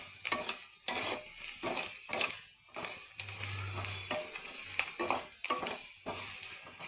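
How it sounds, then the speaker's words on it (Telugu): Ingredients frying in a pan until reddish, heard close up as a sizzle that keeps going under repeated stirring scrapes and bursts of spatula strokes, with short pauses between the strokes and no talking. "చూడండి ఎర్రగా ఫ్రై అవుతున్నాయి."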